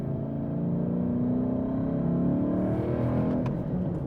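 The engine of a Ford Mustang Boss 302 holds a loud, deep, steady rumble from close by, with a brief rise near the end.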